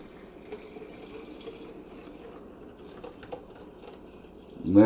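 Kombucha pours steadily into a jar of kombucha as a soft, low liquid wash, with a louder splash at the very end.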